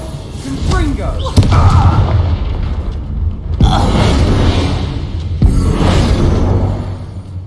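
A Confringo blasting spell detonates in Hogwarts Legacy, loud booming explosions with whooshing blasts, several heavy thuds in quick succession against a rumbling game soundscape.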